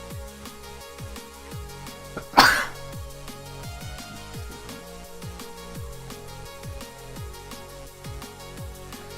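A single sharp sneeze from a person bursts out once near the start, loud and brief, over a quiet steady background with faint ticking.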